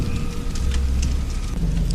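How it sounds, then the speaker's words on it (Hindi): Heavy rain and strong wind on a stormy night sweep through trees as a sound effect, a steady loud rushing roar with low rumbling and scattered patters, no voices. "बरसात की रात में हवाएं तेज चल रही है"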